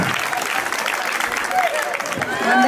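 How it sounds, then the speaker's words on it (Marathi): An audience claps loudly at a Home Minister paithani game show during a Ganesh festival celebration, a dense burst of applause with a voice talking over it. "जोरात टाळ्या झाला पाहिजे"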